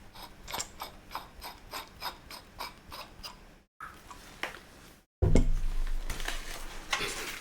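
Parts of a microphone being screwed together, a rapid run of small ratcheting clicks from the threads, then brief handling noise and a louder, rough scraping rustle close by; no talking.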